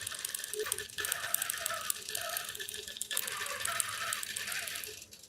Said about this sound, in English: So we can go ahead and hit sew. And it's just gonna stitch itself across here.